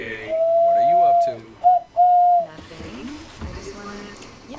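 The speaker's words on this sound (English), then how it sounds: "He's a wood pigeon." A wood pigeon's hooting call, loud and close, in three breathy whistled notes, a long one then two shorter, followed by quieter voices.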